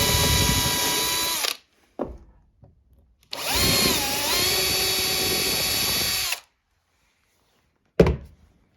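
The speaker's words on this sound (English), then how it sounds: "I'm going to pre-drill through these holes to know where the screws need to go." A power drill pre-drills screw holes through a workbench in a small workshop, with two sustained whirring bursts of about one and a half and three seconds, short clunks between them and a sharp knock near the end.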